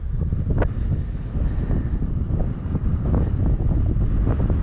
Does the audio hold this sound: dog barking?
no